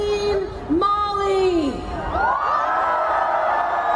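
Festival crowd cheering and whooping, with loud individual yells and shouts rising over a dense roar of voices.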